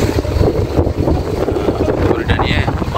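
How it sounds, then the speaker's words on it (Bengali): Stormy wind batters a small boat rocking at sea in the Maldives, a constant heavy rumbling roar of gusts across the microphone, loud and close, with a faint higher whoosh near the end. "পুরো নৌকাটা দোলছে, নৌকাই দোলছে, এতটাই ঝড় উঠেছে"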